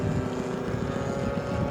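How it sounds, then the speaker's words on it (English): Engine of an 84-inch span F8F Bearcat radio-control model plane flying slowly with flaps down, a steady droning hum with a faint tonal whine that stays even throughout, with no voices. "I can just barely hear the engine."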